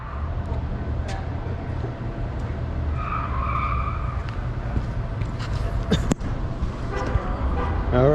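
Car being driven toward Hollywood, a continuous road and engine rumble from inside the vehicle with a few brief tonal squeaks and clicks over it.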